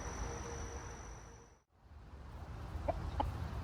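Soft, sparse hen clucks surface near the end over a steady outdoor hum, after a brief lull; a couple of short calls stand out faintly.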